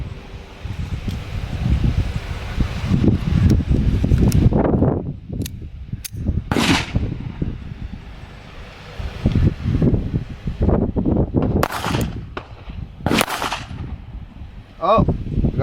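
A stainless Beretta Bobcat .22 LR pistol fires Winchester rounds outdoors. Several sharp, close shots come at irregular intervals with pauses between them, over a steady bed of wind and rustling.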